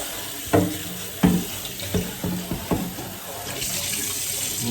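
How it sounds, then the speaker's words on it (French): Running tap water splashes as a Tamiya Mercedes G500 RC car body is rinsed before painting, a steady spray broken by several hollow knocks and handling thumps. "Donc on vient rincer correctement la carrosserie."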